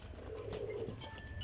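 Pigeons coo softly in a low, steady murmur, with faint wing rustles and occasional higher chirps over constant background hum, fairly close by.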